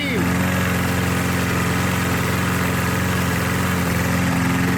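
Small lawn mower engine left outdoors all year, running steadily at idle with a continuous low throbbing hum and vibration, close and loud throughout, the engine still wet inside and steaming.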